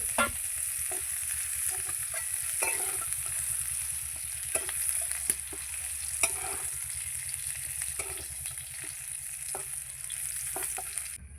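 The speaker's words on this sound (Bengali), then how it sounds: "ফুলকপি আমার ভাজা হয়ে গেছে এই যে লাল লাল করে খুব ভালো করে ভেজে নিয়েছি" Cauliflower florets fry in hot oil in a wok with a steady, close sizzle, broken by occasional stirring scrapes and clinks throughout.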